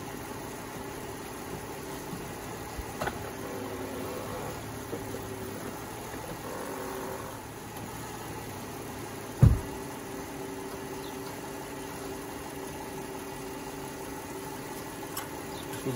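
Dodge Grand Caravan engine running at a steady low idle-like hum, with one sharp thump partway through and otherwise an even drone with no voices.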